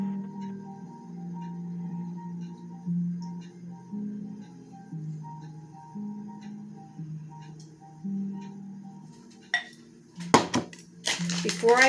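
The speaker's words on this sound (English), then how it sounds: "I'm going to stir this around" Beef bouillon is stirred into canned cream of mushroom soup with a spoon, giving faint ticking taps against the bowl over a low hum, then a louder clatter near the end.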